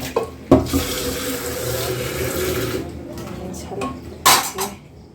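Tap water runs steadily into a sink while dishes are washed in a home kitchen during eggplant cooking, with clinks of pots and utensils and brief louder splashes near the end, no talk.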